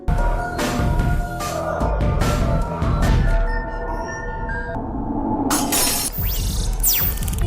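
A glass tube of T-virus thrown and shattering in a lab, bursts of breaking glass and clinks mixed with a loud tense musical score and electronic tones.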